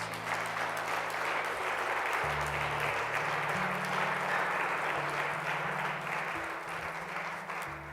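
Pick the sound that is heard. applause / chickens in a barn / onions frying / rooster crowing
applause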